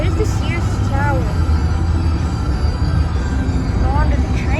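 A Chicago CTA L train rolling along the tracks toward a train bridge, a steady loud rumble with occasional squealing wheel tones, heard from on board.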